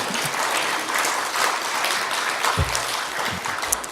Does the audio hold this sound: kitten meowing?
no